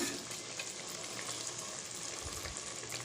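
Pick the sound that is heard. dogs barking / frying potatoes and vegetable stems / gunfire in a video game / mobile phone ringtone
frying potatoes and vegetable stems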